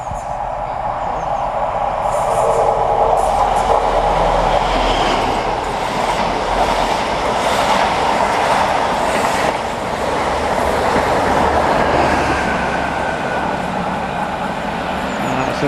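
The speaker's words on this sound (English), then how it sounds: "That's another Meridian. That's come from Sheffield going to London St Pancras." A Meridian passenger train running from Sheffield to London St Pancras passes close by, a loud steady rumble with clickety-clack of wheels over rail joints lasting throughout, no voices.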